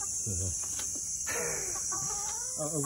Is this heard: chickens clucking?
yes